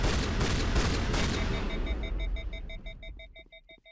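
A rapid burst of Piranha auto shotgun fire in Mass Effect Legendary Edition, loud and close at first, then thinning out into a steady run of repeating electronic beeps.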